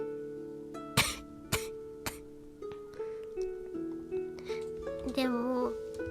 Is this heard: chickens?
no